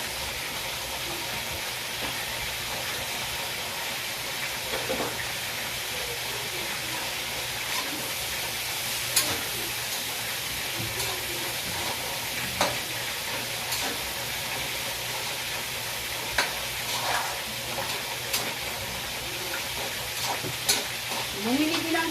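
Beans sizzle steadily in a hot frying pan while being stirred, a continuous hiss with scattered scraping spatula clicks and pops throughout, close and moderately loud.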